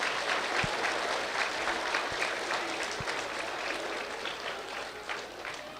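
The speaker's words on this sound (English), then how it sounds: "Yeah, you can clap." Elementary schoolchildren clapping at a school award assembly, dense and sustained applause from a large group of young hands that holds steady for several seconds, with a few low thumps underneath.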